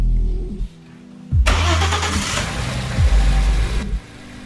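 2.7-litre twin-turbo V6 in a 2001 Audi S4 with a cylinder misfire, cranking and catching to a rough, uneven running note with a couple of restart surges, close and loud with no talk.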